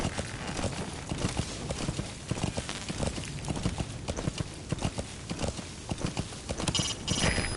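Hooves of a horse gallop in the Metal Gear video game, a fast, steady clip-clop rhythm that stays close and loud throughout, with no talk over it.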